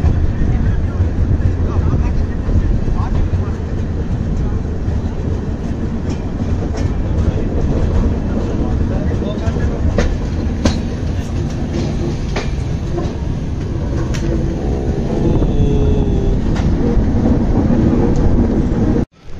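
A Vizag to Araku passenger train with a Vistadome coach runs steadily, its loud continuous rumble and rattling wheel clatter filling the whole stretch, with occasional sharper knocks and a brief voice in the background.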